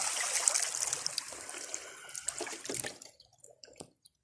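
Sea water splashes and churns around someone bathing at a beach, a close, continuous wash of splashing that thins into a few scattered drips and sloshes near the end, with no talk.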